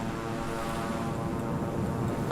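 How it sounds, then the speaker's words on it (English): Jet aircraft in Microsoft Flight Simulator, a steady broad engine roar and rushing drone, loud and unbroken with no other sounds over it. "I can hear your jet there."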